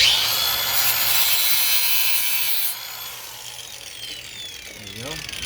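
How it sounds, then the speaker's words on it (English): An angle grinder fitted with a cut-off wheel slices through a park brake cable on an F250 pickup, a loud, close, high-pitched grinding whine that drops away halfway as the blade spins down. "Grinder with a cut wheel."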